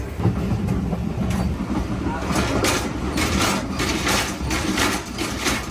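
Passenger train running on a journey in Bangladesh, a steady broadband rumble with faint rhythmic clatter throughout, with voices talking over it.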